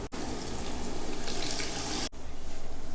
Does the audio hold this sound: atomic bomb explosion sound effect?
no